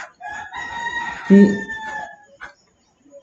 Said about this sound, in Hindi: ये मुर्गे मेरे नहीं हैं, ठीक है, ये बगल में पता नहीं किसके हैं